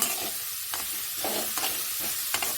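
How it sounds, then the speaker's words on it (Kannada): Okra dry-roasts in a pan without oil, a close steady hiss with repeated scraping stirs of a spatula at an uneven rhythm, no talking. "ಬೆಂಡೆಕಾಯಿ ಮಾಡಿ ಸ್ವಲ್ಪ ಎಣ್ಣೆಲ್ಲದೆ ಹುರಿದಿದ್ದೀನಿ"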